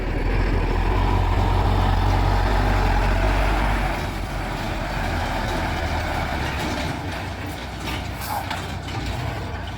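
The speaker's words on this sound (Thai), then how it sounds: "อันนี้ก็คือรถที่ว่าส่งสินค้าไปเวียด" A cargo truck hauling goods on the road toward Vietnam roars past close by, heavy low engine rumble and tire noise fading slightly as it moves away.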